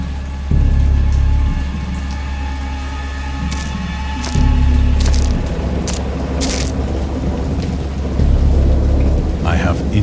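Heavy rain pours steadily while deep rolls of thunder rumble in three separate swells, loud and close.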